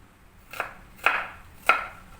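Three crisp knife strokes slicing onion on a cutting board for a corned beef dish, evenly spaced about half a second apart, close and clear with no talking.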